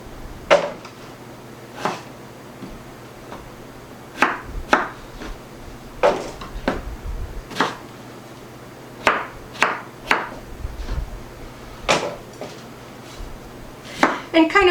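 A knife chops peeled potatoes into bite-sized pieces on a cutting board, giving about fifteen crisp, irregularly spaced strikes close by with quiet pauses between them.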